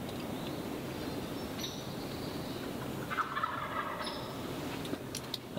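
A distant wild turkey tom gobbles a couple of times over a steady outdoor hiss in hardwood woods, faint and far off, with no talking.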